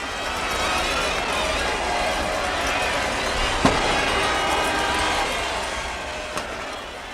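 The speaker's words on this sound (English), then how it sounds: "Listen to the roar of that crowd." A dense New Year's Eve crowd roars at midnight in Times Square, a steady, broad wash of many voices close and far, with a couple of sharp pops cutting through near the middle and end.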